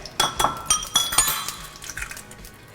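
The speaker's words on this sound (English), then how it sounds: "And then we are going to crack our eggs" Eggs cracked against a pan edge and dropped in, giving several sharp taps and clinks in quick succession followed by a softer wet settling, close and without talk.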